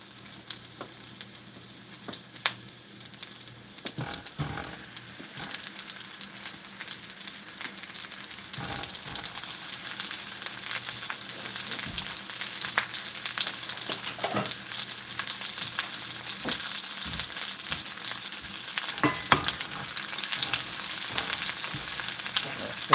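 Burger patties fry in a hot pan with a steady, busy sizzle and crackle that runs unbroken throughout, close and fairly loud, with occasional sharper pops.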